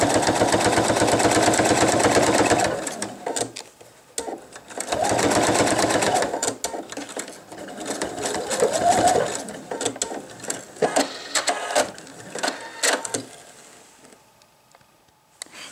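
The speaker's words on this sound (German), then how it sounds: "Und nähen jetzt erstmal nur diese Mittelnaht." Sewing machine stitching the middle seam of a men's wallet along a chalk line, steady rapid needle clatter in several runs that stop and restart, ending in scattered short bursts, close up.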